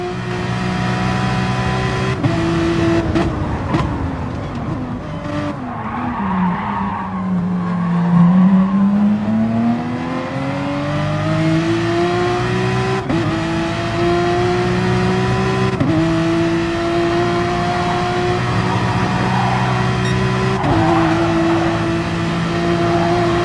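Race car engine in the video game Gran Turismo Sport, loud and steady, its pitch dipping as it slows through a corner and then climbing again through repeated gear changes, with no talk.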